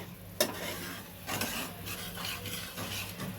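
Spice mix for a fish curry stirred in a wok, with scraping and low sizzling under a steady background hum, one sharp clink near the start.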